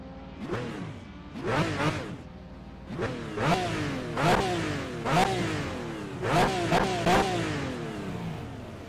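Aston Martin V12 GT3 race car lapping in a racing video game, its engine repeatedly revving up and dropping through gear changes in a steady cycle of loud, close accelerations with whooshing passes.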